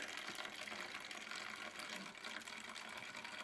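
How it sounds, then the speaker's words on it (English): Homebrew pilsner beer runs steadily into a bottle during bottling, making a continuous close hissing, gushing flow with no pauses. "Okay, I've got beer coming through"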